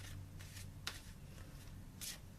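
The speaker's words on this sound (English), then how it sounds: "I'm going to cut the deck." A deck of Archangel Michael prayer cards is shuffled and cut, giving a few quiet papery riffles and soft flicks over a low steady hum, with brief brighter snaps near the middle and end.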